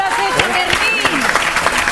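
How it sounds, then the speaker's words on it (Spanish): Audience at a magic show applauds after a trick, a short burst of scattered clapping with a voice talking over it. "Un fuerte aplauso para Fermín del siglo XXI."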